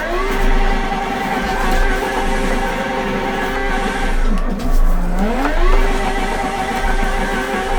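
A drift car in the Assetto Corsa racing game revs hard and continuously, with its engine note rising and dipping through gear changes and tires squealing under long slides, loud and close throughout.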